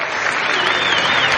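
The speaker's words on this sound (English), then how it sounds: "he gets a nice round of applause" Applause from a baseball crowd as a pitcher leaves the game, a steady, loud wash of many hands clapping, with a voice talking over it.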